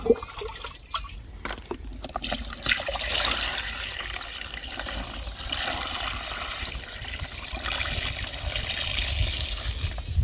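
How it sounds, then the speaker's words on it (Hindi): Water poured into a drum to mix a pesticide spray for an okra crop, a continuous splashing, gushing fill running the full length, with a few sharper knocks near the start. "पानी को डाल देते हैं।"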